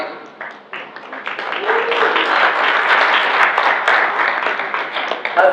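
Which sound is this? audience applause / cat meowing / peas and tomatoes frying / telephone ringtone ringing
audience applause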